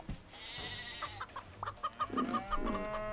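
Chickens cluck and squawk in a farm level of the co-op game Moving Out, a run of short close calls over quiet background.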